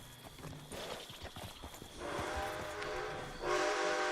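Horse hooves clip-clop steadily in Red Dead Redemption 2 over several seconds, with a rumbling, train-like background and sustained tonal whistle layers that swell toward the end; no one talks.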